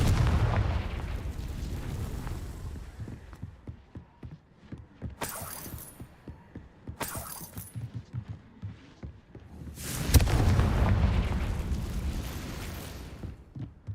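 In Hogwarts Legacy, the Confringo fire-blast spell goes off in a run of rumbling booms and crackling bursts, with sharp high crashes around the middle and a big blast near the end, all loud and close with no speech.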